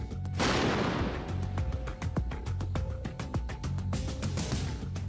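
A loud, sharp shaped-charge blast fired at tank armour opens with a booming roar, followed by a long run of crackling impacts and clattering debris that keep snapping for several seconds.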